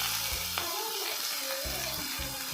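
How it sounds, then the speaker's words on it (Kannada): Chopped onion with red and green chillies frying in a pan, a continuous close sizzle with soft stirring, while a voice speaks intermittently underneath. "ಇದನ್ನು ಸಾಫ್ಟ್ ಆಗೋವರೆಗೂ ಚೆನ್ನಾಗಿ ಫ್ರೈ ಮಾಡ್ಕೋಬೇಕು"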